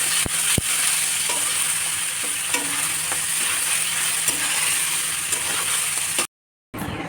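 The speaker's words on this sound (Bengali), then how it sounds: "বন্ধুরা আমার চিচিঙ্গা ভাজা হয়ে এসছে" Snake gourd (chichinga) cut into thick chunks sizzles steadily in a frying pan, a dense close crackle and hiss broken by a few sharp clicks of a utensil stirring, then a brief cut to silence near the end.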